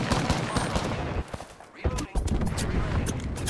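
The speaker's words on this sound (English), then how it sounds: "Heads down. Airstrike." Airstrike explosions and gunfire from the battle royale game Apex Legends crackle in a loud, dense barrage, with a brief lull before more blasts and shots follow.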